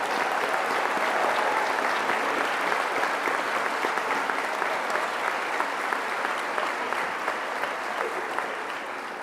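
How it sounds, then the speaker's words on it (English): Sustained, dense applause from a large commencement crowd at a law school graduation, honoring graduates' partners and significant others; steady and full throughout, slowly tapering near the end. "Would the partners and significant others of our graduates please stand for applause?"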